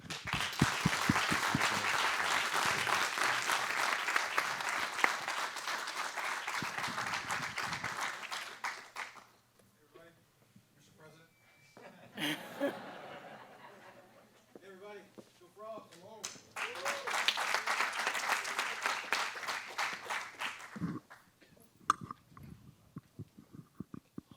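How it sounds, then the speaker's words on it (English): Audience applause at an event introducing a new presidency, with a sustained burst of clapping, a pause filled by talk, then a second loud round of clapping. "Let's give a big round of applause for them."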